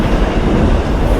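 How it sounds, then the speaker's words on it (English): A long train rumbles past outdoors, a steady, loud, dense roar of rolling wagons and wheels filling the whole moment without pause, with no voices. "Can still hear that train in the background"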